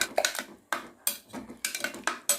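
Jaggery is stirred into a moong dal and sago payasam in a pot, with repeated metallic scraping and clinking of a spoon against the vessel in quick, close, uneven strokes.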